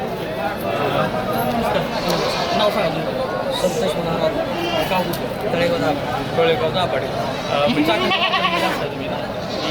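Goats bleat again and again at a busy livestock market, their calls rising over a constant crowd murmur while people talk close by.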